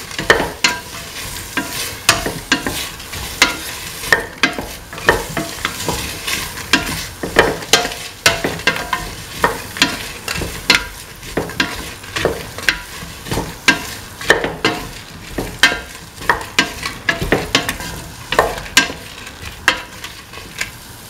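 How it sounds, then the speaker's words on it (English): A spoon works chopped tomatoes and salt through a sizzling vegetable rice mix in a hot pan, with steady frying hiss under a continuous series of scraping, clattering strokes, close and fairly loud. "Mix the tomatoes and salt with the rest of mix."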